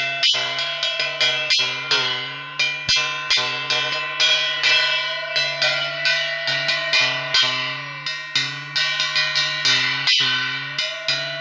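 A temple bell rings during a Maa Mangala puja, struck repeatedly in a steady rhythm with a clear metallic tone, loud and near, each stroke ringing into the next, with occasional sharp clicks.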